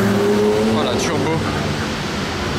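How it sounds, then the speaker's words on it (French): A red Renault 5 Turbo with French plates sweeps past with a brief rising then fading engine note, loud and close over street noise, while someone talks over it. "Renault 5 turbo. En rouge, plaque française."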